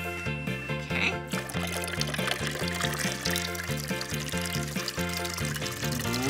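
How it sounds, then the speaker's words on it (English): Water poured into a container while making lemonade, a continuous splashing stream heard over upbeat background music for several seconds. "let's add our water"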